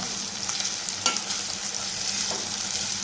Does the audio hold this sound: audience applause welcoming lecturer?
no